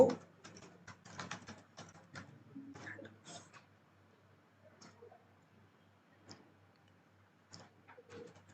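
Code being typed on a computer keyboard in irregular bursts of quick, close clicks, with short pauses between clusters in an otherwise quiet room.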